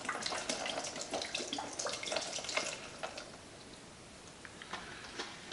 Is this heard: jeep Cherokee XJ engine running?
no